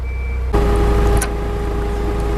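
A forklift dragging a non-running Jaguar F-Type into a bay sounds a loud, steady reversing tone over a heavy engine rumble, close by and with no voices.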